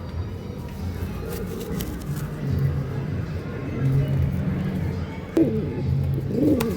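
Pigeons coo in soft, low, repeated calls close by, with faint background rustling and a sharp knock partway through.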